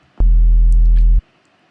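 A single low, pure sine tone sounds steadily for about a second, then cuts off cleanly into near silence.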